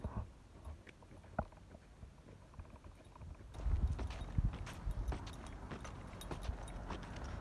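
Horses walk nearby on a path while a dog is led through leash training outdoors, their hooves giving soft irregular clip-clop thuds that grow louder and busier partway through, with no talking.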